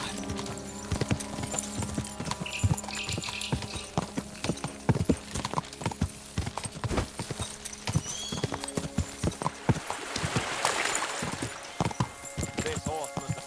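Steady clip-clop of horse hooves in the medieval video game Kingdom Come Deliverance 2, a continuous rhythmic trot with clattering impacts over ambient game noise and music, with a brief whinny near the end.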